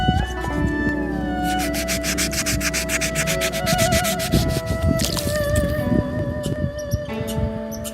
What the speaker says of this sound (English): Get rid of any stickers and try and scrape away that gunk.